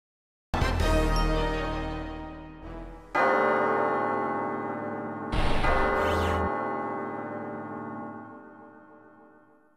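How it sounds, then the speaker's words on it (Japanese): Large church bell tolling over Paris in Sakura Wars 3, several deep resonant strikes spaced seconds apart, each ringing out and slowly decaying, alone without speech. "五回目の鐘がパリに鳴り響くとき"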